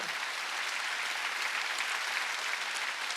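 A church congregation at a Sunday service claps its hands in sustained, even applause, fairly distant and with no voice over it.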